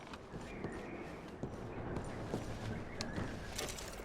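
Horses clip-clop steadily in Red Dead Redemption 2, a rhythmic hoof patter close by, with soft ambient outdoor noise around it.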